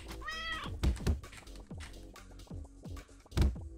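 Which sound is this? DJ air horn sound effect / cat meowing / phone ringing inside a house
cat meowing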